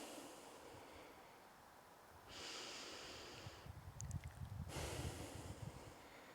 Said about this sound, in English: inhaling through the nose, exhaling through the nose